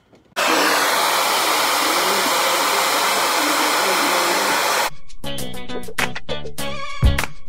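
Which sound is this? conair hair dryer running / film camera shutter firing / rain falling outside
conair hair dryer running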